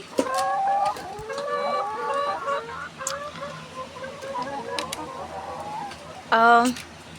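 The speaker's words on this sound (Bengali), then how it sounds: "এখানে 44টা মুরগি আছে, তো 44টা মুরগি থেকে আমরা প্রতিদিন 40টা করে ডিম পাই।" Layer hens, a flock of about forty-four kept for eggs, cluck repeatedly at close range in a steady run of short calls. A sharper squawking burst comes near the end, and a person talks alongside.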